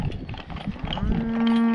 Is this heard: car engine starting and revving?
no